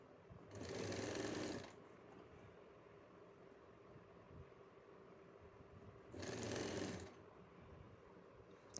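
A sewing machine stitches a folded coat collar in two quiet bursts of rapid whirring, each about a second long, with a soft lull between them and no talking.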